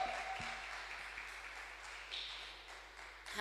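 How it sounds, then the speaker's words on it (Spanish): Church congregation applauding at an evening healing campaign service, a faint, steady wash of clapping that holds evenly throughout with a brief swell near the end. "denle un fuerte aplauso al Señor"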